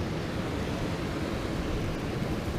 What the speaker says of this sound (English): Can you hear the water? The water rushing.